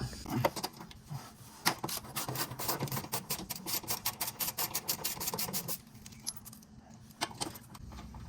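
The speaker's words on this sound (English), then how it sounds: "It's held in by 4 10mm bolts. So let's go ahead and get those out." Four 10mm bolts being worked loose from an access plate on a Kawasaki Teryx, with fast ratchet clicks and metallic rattling in dense bursts, close and fairly loud, easing off toward the end with a few sparse clicks.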